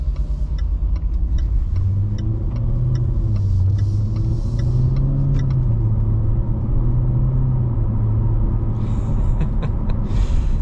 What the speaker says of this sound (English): that V8 grumble is undeniably awesome